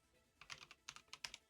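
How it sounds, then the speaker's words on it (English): A short burst of quiet keyboard typing, about a dozen quick, crisp key clicks close by with no voices. "I will just type it in."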